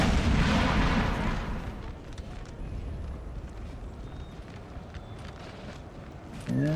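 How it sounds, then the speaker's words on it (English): Artillery fire in Napoleon: Total War opens with a loud, heavy boom that fades into a sustained battlefield rumble, with a brief voice at the very end. "watch out for the artillery"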